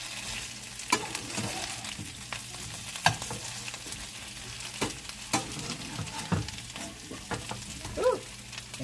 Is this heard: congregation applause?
no